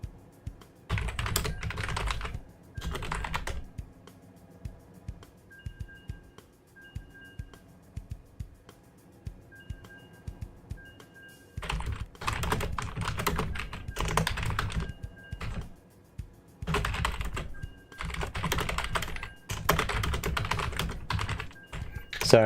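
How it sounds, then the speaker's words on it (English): Bursts of computer keyboard typing, close and fairly loud, come in clusters with pauses between, and a quiet electronic beep pattern runs beneath during the lull. "Sorry, typing."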